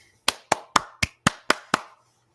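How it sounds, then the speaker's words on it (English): Seven sharp hand claps from a single person ring out at a steady, deliberate pace, each one crisp and close with a short decay, followed by quiet. "Round of applause"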